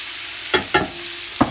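Garlic, peppers and onions sautéing in a pan for jambalaya, a soft sizzle broken by three quick spatula scrapes and stirs, close and moderately quiet.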